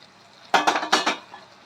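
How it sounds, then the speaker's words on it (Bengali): A metal lid lifted off a pan of cooking vegetables: a quick series of close, bright clanks and scrapes lasting about half a second, then a faint clink, over a quiet kitchen background. "এবার আমরা ঢাকনাটা তুলে একবার দেখে নেব"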